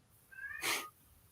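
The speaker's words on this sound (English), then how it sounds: "So that's my cat. Ignore that." A house cat lets out a single short meow, quiet and close, rising briefly and fading within about half a second.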